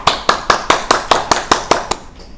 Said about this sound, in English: I want you to request to give a big clap for that.